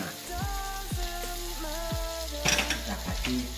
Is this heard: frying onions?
yes